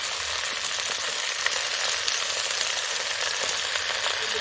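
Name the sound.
chopped Malabar spinach (pui) sizzling in hot pan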